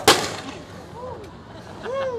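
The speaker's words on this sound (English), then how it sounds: "that bang you hear is what we call an expulsion fuse" An expulsion fuse on a power line blows during a line-work safety demonstration, one sharp loud bang at the start, followed by quieter background sound.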